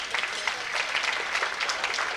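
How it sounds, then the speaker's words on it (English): Audience applause at a 1995 track banquet for Southwest DeKalb, a dense, steady patter of many hands clapping together with no voices rising above it. "and that deserves a round of applause"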